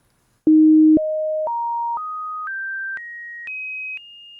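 Eight pure computer-synthesized sine tones, separate frequencies, step upward one after another, each held about half a second, clean and steady with no talking.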